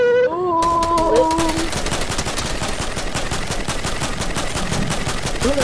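Assault rifle firing in a video game, a long unbroken stream of rapid automatic shots, loud and close, starting after a brief musical tone and continuing to the end.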